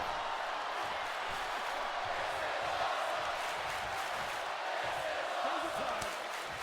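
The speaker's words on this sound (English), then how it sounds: "You can hear the excitement in the crowd right here." A large crowd at a professional wrestling event roars in a steady, distant wash of cheering and shouting after a superplex off the top rope, with no clear individual voices standing out.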